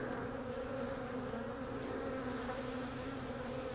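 Honey bees buzz steadily on a frame pulled from a small, weakened hive, a continuous close drone with no pauses and no voices.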